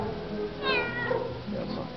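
Several cats at a cat colony meow in a short, plaintive call, with softer mews and faint background murmuring around it.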